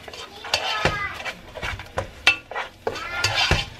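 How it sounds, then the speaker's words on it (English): Onion and garlic are sautéed in a pan, with a spoon clanking and scraping against the metal in an irregular stirring rhythm over a faint sizzle. "now that the onion is just about done, I'm going to go ahead and add a little bit of garlic."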